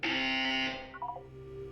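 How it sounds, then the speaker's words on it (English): A loud electronic buzzer from the Portal 2 video game sounds as one sustained harsh tone for about three quarters of a second, then cuts off, leaving quieter tonal game ambience behind. "You will hear a buzzer."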